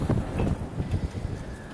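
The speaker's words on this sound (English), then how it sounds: "Oh, it's windy." Gusty wind buffets the microphone with a rough, low rumble that rises and falls throughout.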